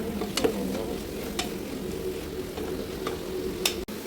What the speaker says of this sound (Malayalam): ഇതിങ്ങനെ വഴറ്റി കൊടുക്കണം, ഇങ്ങനെ ഇളക്കി കൊടുക്കണം.